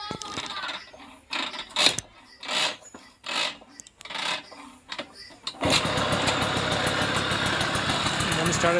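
TVS Excel motorcycle engine sputtering through a few uneven bursts before catching, then settling into a steady, close, continuous idle after a cable repair.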